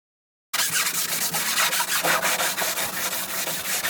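A longboard sanding block is dragged back and forth across fairing compound on a boat hull, producing loud, continuous rhythmic rasping strokes close up, with no talk.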